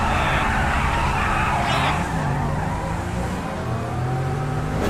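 Sports car engine in GTA 5 idling and revving at a red light beside another sports car, a steady loud drone with rising whines, under faint game ambience and no talk.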